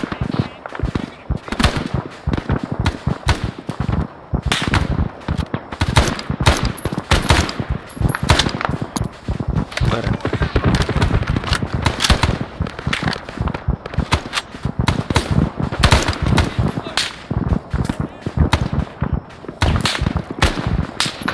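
Sustained automatic gunfire fills a Hill 881 defense battle in a video game, with dense, rapid bursts and single shots cracking loudly and continuously over a rumbling background.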